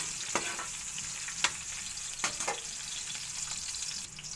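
Ginger and onion sautéing in a hot pan, a steady frying sizzle with a few sharp clinks and scrapes of a utensil stirring, close and fairly quiet, no talking.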